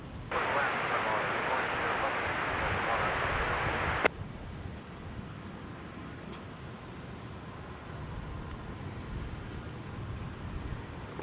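A Delta heavy jet airliner at Minneapolis–St Paul airport gives a loud, broad roar for about four seconds, then drops abruptly to a lower steady rumble, with faint voices in the background.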